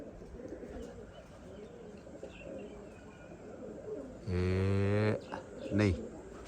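Pigeons coo faintly amid a noisy outdoor background, then a loud, sustained tonal blast and a shorter one cut in near the end.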